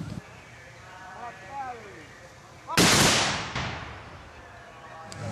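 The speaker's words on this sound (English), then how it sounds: "try to show the public how these cannons were loaded and fired" A replica Civil War cannon fires with a single loud, sharp boom that decays over about a second. It is heard at an outdoor steam show, with someone speaking before it.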